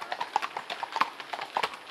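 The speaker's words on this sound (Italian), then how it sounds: "Sta in là cavallino, eh?" Horse hooves clip-clopping on a hard surface near the Arno, a steady run of sharp, close hoof strikes in an uneven walking rhythm, fairly faint with little else around.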